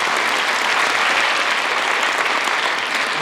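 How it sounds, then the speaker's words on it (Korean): Steady, dense applause from a crowded hall at the opening ceremony of a 2023 regional unification rally in Korea, continuous and even throughout with no gaps. "I want to give all of you a round of applause"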